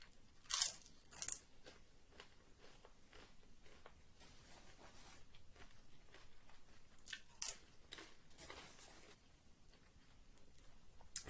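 Jalapeño-and-cheese Doritos are crunched and chewed up close at a Subway in Selly Oak, giving scattered crisp bites in a few louder bursts between quieter chewing, with no talking.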